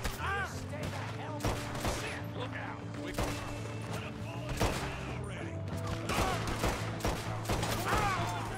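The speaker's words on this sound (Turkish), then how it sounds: "Ama bu silah öldürmüyor ki ya." Gunfire in a Red Dead Redemption 2 canyon shootout: repeated sharp shots crack out at irregular intervals over game music and ambience, with a voice talking at moments.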